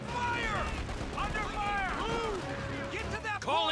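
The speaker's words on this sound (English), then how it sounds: "Small arms fire!" Small arms gunfire crackles through a Company of Heroes 2 battle, with rapid shots overlapping shouted voices and game chatter throughout, dense and continuous rather than isolated.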